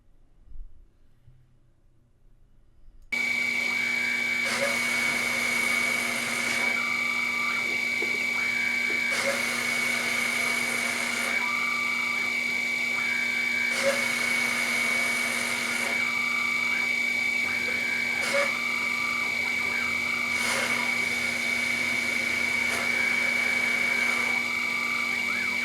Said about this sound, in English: After setting up the X and Z starting points, it's time to run the CNC code.